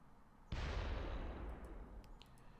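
A gammon bomb explodes in the Close Combat wartime strategy game, a sudden loud blast with a long, broad rumbling decay that fills the rest of the moment, with faint clicks near the end.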